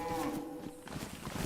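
A cow in DayZ's Chernarus countryside lets out a single short, low, fairly faint moo amid quiet game ambience.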